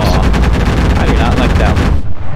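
Aircraft cannon fire in the Enlisted video game, aimed at an American A-20 bomber: loud, dense rapid bursts of shots blending into booming rumble, close and continuous before cutting off near the end.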